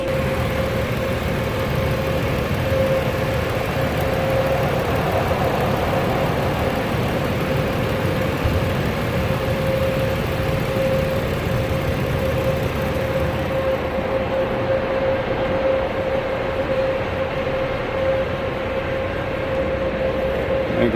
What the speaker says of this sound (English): Start it up, go check for leaks.